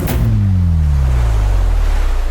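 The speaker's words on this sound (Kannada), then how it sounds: "ಆಯ್ತು, ಈಗ ನಾವು ಸಮುದ್ರಕ್ಕೆ ಬಂದಿದ್ದೀವಿ." Ocean waves at the seashore make a loud, continuous roaring wash, with low rumbling tones and wind noise across the microphone throughout.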